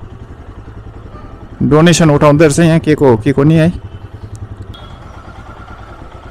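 A motorcycle idles near Kalimpong Hat Bazaar market, a low, even putter pulsing steadily throughout, partly covered by someone talking close by for a couple of seconds.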